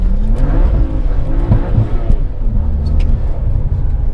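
BMW 335i with an N54 engine and a Chinese 17T hybrid turbo, accelerating hard at full throttle on a drive, heard from inside as a loud, steady engine roar and rumble with no speech.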